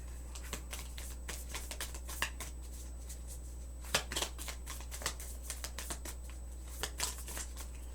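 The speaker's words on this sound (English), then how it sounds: "we will pull a Guardian Angel Oracle deck" Guardian Angel Oracle deck cards being shuffled, a steady run of soft papery riffles and flicks close by, with no talk and a constant low hum underneath.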